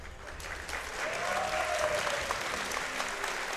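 A live crowd applauds steadily at a StarCraft II WCS Spring 2019 esports event, with dense, sustained clapping filling the hall throughout.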